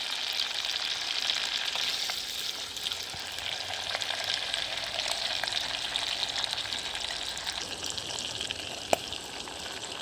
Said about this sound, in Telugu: కొంచెం కరివేపాకు, పచ్చిమిరపకాయలు కొంచెం ఎక్కువ వేస్తున్నా